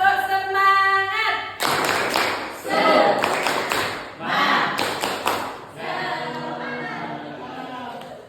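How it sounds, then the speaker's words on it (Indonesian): A classroom of students performs a rhythmic clapping cheer led by their teacher, bursts of sharp, patterned claps interleaved with shouted chanting voices, loud and close, ending in a sustained group call. "Kita tepuk semangat terlebih dahulu ya."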